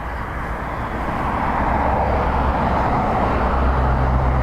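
An airliner arriving at Dublin Airport on a windy day roars at a distance as a broad, steady rush of engine noise that swells slightly as it draws nearer, with no voices over it.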